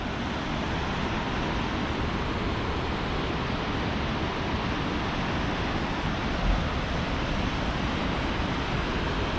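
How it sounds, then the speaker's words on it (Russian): A rushing, turbulent river near the Rufabgo waterfalls roars as a loud, steady, unbroken wash of noise that stays constant throughout. "Там река что-то прям бурная такая, чуть шумит."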